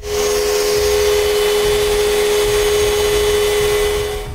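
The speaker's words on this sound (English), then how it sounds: "After blowing off the dust, my signature looks better." A loud, steady blast of air, as from a compressed-air blower, runs without pause to clear sanding dust off a wooden tack box, with a constant whine on top and no talk.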